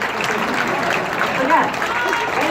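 Audience applause fills a Las Vegas casino showroom at a concert, a steady dense wash of clapping throughout with a slight swell midway and possible voices mixed in.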